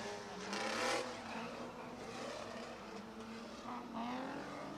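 Drift cars run in tandem in the rain at Big Indian Drift Pit, engines roaring steadily at a moderate distance with surging revs and a brief tire hiss, all under a continuous wash of noise.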